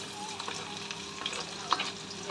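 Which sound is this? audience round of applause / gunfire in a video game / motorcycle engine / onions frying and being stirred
onions frying and being stirred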